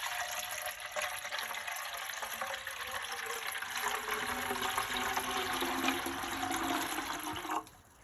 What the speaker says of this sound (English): So just add the normal water.